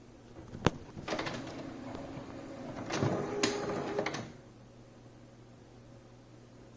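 An HP OfficeJet 8025 wireless all-in-one inkjet printer running during initial setup, a soft mechanical whir with clicks and a sharp clack, building for a few seconds before settling into a quiet hum.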